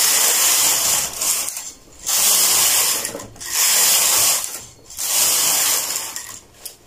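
A domestic knitting machine carriage sweeps back and forth across the needle bed, knitting rows of red yarn for a bubble-pattern baby beanie: four loud whirring, clattering passes separated by brief pauses, close and with no talk.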